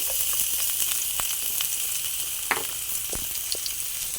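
Garlic frying with onions in a pan for pork humba, a steady bright sizzle with small crackles and pops, close and continuous, no talk.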